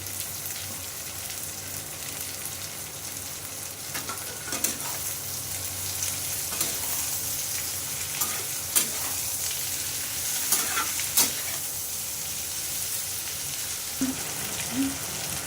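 Green chillies and flour sizzle and fry steadily in a hot pan for a ribbed gourd dish, with occasional stirring scrapes and small pops breaking through the constant hiss.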